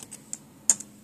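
Computer keyboard typing, a handful of crisp, close key clicks tapped irregularly with short gaps, one stroke louder than the rest, no talking.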